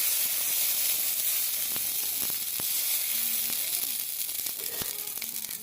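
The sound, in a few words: mustard oil sizzling in hot wok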